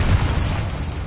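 A Confringo spell explosion in Hogwarts Legacy, heard as one brief, deep, booming blast that fills the moment loudly and then fades.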